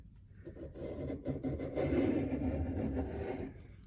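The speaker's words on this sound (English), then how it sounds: "I'm going to make sure to press down very strongly as I run the knife down the" A reed knife scrapes back and forth on a whetstone under heavy pressure in steady, gritty rasping strokes, close and moderately loud, with no talking.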